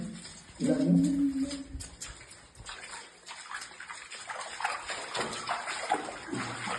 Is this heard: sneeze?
no